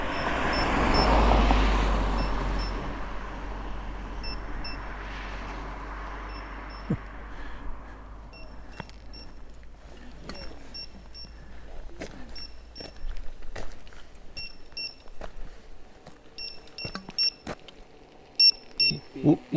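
An electronic device emits repeated short, high beeps in uneven bursts while out in the mountains. Road or vehicle rumble fades early on, and a person talks intermittently.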